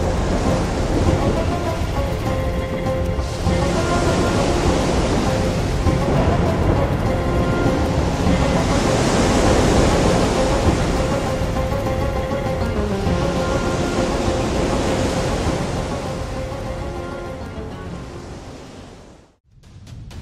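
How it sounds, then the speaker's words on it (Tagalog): Huge sea waves and whirlwinds churn in a continuous roaring wash of surf and wind, loud and steady with swelling surges, dying away abruptly near the end. "Sunod-sunod na dambuhalang mga alon at ipo-ipo ang kanilang hinarap."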